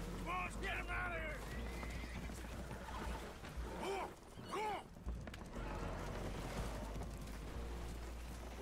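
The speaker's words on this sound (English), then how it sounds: "Horses are spooked, and we're taking on water." Spooked horses whinny and neigh in Red Dead Redemption 2 aboard a holed boat taking on water, several loud calls rising over a steady low rumble with water and movement sounds.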